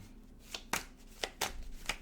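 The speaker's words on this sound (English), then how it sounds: "One more shuffle, guys." Deck of tarot cards being shuffled by hand, a few quick crisp riffling bursts in close succession, near and fairly loud with no talk.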